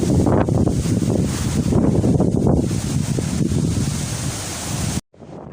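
Tidal water drains out toward the ocean at low tide after a storm, a loud, broad rushing wash mixed with heavy wind buffeting on the microphone, cutting off abruptly near the end.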